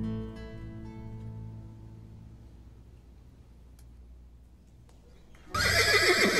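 A horse whinnies loudly in a stage musical setting, the neigh fading over a couple of seconds into near silence before a sudden burst of louder noise near the end.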